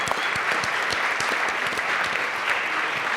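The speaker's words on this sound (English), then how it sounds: "So we should all give a big clap." Audience applause at a live book talk, dense steady clapping from a crowd filling the whole stretch, fairly loud and close, with no speech over it.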